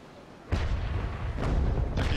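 Ship cannons fire in the naval combat game Naval Action, three heavy booms spaced about a second apart, each a loud broadband blast with rumbling decay, close and dominant.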